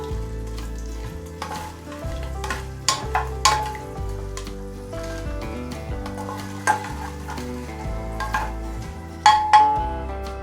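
Cinnamon and bay leaf being stirred and roasted in a pan for a pea and paneer pulao, with steady sizzling under repeated clinks of a spoon against the pan and no talking.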